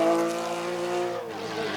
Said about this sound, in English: God, I love the sound of those cars.